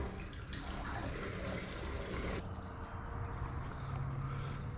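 Cold water runs steadily from an outdoor tap at a campsite, a continuous close splashing stream with faint birdsong in the background.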